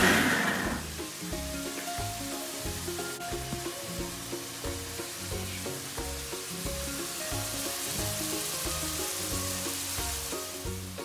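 Onions browning in a pan for Punjabi baingan bharta give a steady, close, loud sizzle and hiss that runs unbroken, with faint tonal sounds underneath and no talk.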